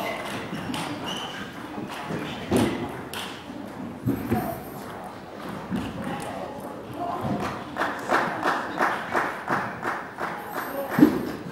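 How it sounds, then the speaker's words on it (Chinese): Coaches clap repeatedly at the side of a table tennis team trial match, a string of sharp claps in a quiet hall, growing steadier and denser toward the end. "他们的教练呢在场下也是啊，就不断的鼓掌"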